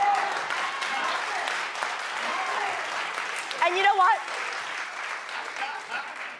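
A studio audience applauds, with a cameraman joining in, as steady close clapping that runs the whole time under a voice speaking briefly.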